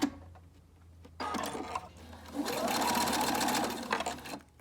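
A sewing machine runs forward for a few stitches while making a fabric Bible cover, starting with a brief whir, then a steady rapid mechanical hum that builds and holds, close and fairly loud.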